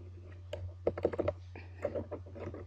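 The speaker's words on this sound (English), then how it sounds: "I'm gonna type in MHU." Fingers type steadily on a computer keyboard while text is entered into a PSP icon image, making quick bursts of close, crisp key clicks over a low steady hum.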